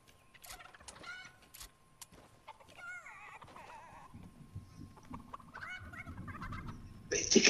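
Chicken clucking inside the Fortnite video game, a run of short fowl-like calls and squawks over game sounds, rising to a louder burst at the end.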